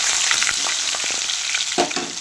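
Grated garlic and black nigella seeds fry in mustard oil, a steady close crackling sizzle with a few stirring scrapes and a brief louder burst near the end.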